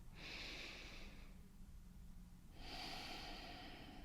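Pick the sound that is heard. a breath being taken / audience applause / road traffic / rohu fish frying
a breath being taken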